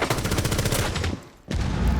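Rapid bursts of video game gunfire as a player shoots at nothing, loud repeated shots in a quick rhythm, a brief gap near the end, then firing resumes.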